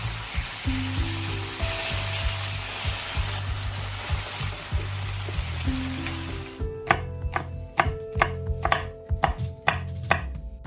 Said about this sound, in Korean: 청양고추, 홍고추 고명으로 쓰게 송송 썰어주시고요